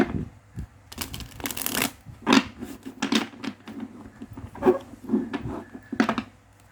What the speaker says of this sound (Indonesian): di sini aku akan coba shuffle kartunya untuk kamu